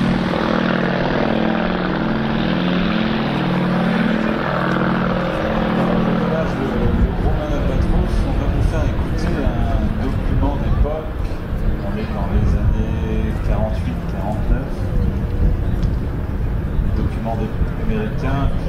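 A vintage airplane built in 1951, running its engine at the Biscarrosse seaplane show, drones loud and steady throughout with a deep propeller hum and rumble, while people talk faintly nearby.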